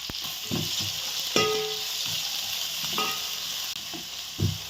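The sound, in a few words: onions frying in oil in a pan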